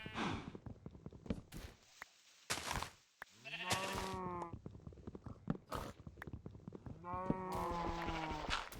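Sheep bleating in the Minecraft video game, several drawn-out wavering bleats spread across the clip alongside game sound effects and soft clicks.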